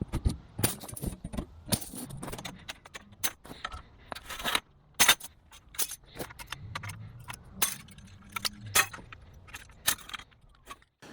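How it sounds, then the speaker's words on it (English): Tin snips clipping and snapping the straps on a Winkler Structures storage shelter shipping crate, a series of sharp metallic clicks and rattles in irregular bursts close by, with no talk. "Let me grab a pair of tin snips. We'll crack these straps open and see what we got."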